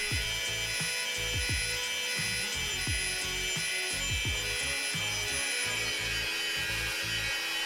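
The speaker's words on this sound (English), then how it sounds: "Once the knife is thin enough, I will switch to finer grit belts to get rid of all the deep scratches." A belt grinder sands a Damascus steel knife, a continuous abrasive whine with rhythmic scraping strokes as the blade is passed back and forth across the belt, steady and close throughout.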